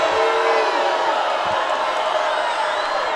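Spectators at a Friday night high school football game, Mechanicsburg at Greencastle, grumble and call out after a no call on a late hit, a dense, steady crowd roar with scattered shouts throughout.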